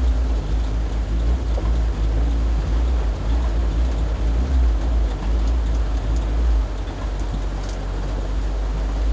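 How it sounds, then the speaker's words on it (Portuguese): Steady dense hiss of heavy rain pouring down, heard from inside a garage, with a deep continuous rumble underneath and no voices. "O chuva tá muito violento."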